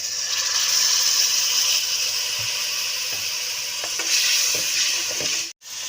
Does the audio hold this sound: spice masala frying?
yes